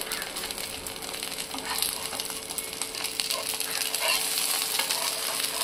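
Ragi (nachni) dosa sizzles on a hot pan as it is flipped, a steady bright frying crackle with light scraping, continuous and fairly close, with no talk.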